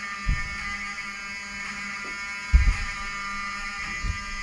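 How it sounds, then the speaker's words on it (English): A hotel building fire alarm buzzes steadily and continuously at moderate loudness, with a few low thumps punctuating the drone. "I want them to hear the fire alarm."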